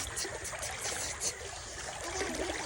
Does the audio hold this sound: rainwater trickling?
yes